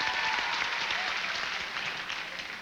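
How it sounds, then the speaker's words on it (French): Audience applause at a 1995 Radio-Canada comedy show by Michel Courtemanche, a steady dense wash of clapping that holds at an even level for the whole stretch with no talk over it. "Les touristes, applaudissez, s'il vous plaît."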